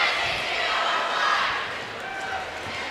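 A packed high school basketball gym on a Friday night, with fans filling both sides, gives off a steady broad crowd roar that swells and dips slightly under a speaking voice.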